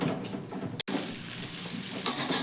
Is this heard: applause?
no